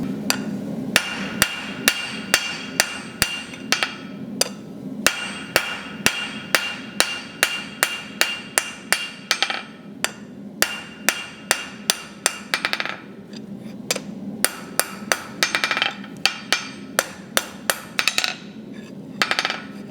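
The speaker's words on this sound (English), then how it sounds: "So I'm just using a round bit of my hammer just to push that transition over." A blacksmith strikes a square steel bar with the round face of a hammer in a long run of sharp, ringing blows. The strikes are close and steady, with brief pauses and a few quicker clusters.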